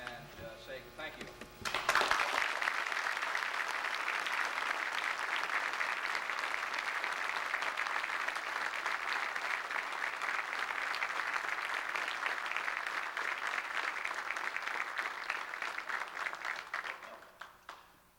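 Sustained applause at a 1992 military retirement ceremony runs for about fifteen seconds, even and full, before tapering off. Someone speaks briefly at the start.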